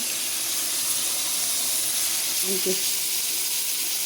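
Eggplant frying in oil in a pan, a constant loud hiss and sizzle close up, steady throughout with a faint brief tonal sound partway through.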